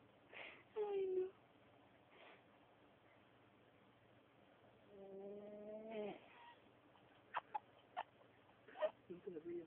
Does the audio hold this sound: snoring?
yes